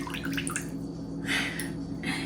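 Tap water runs and splashes while grass-fed beef is rinsed, with an uneven close trickle and a few brief louder gushes.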